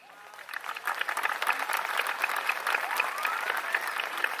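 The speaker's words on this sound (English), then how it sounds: "that applause is for everyone in the stands" A crowd in the stands at a high school graduation applauds, a dense wash of many hands clapping at moderate distance, steady and sustained throughout.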